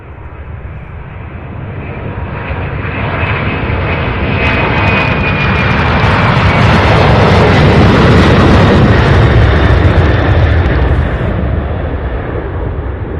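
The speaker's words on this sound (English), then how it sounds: "here's another MD-11." A McDonnell Douglas MD-11 jet takes off from Louisville airport with a loud, continuous engine roar that builds and swells as it passes, then slowly fades, and no talking is heard.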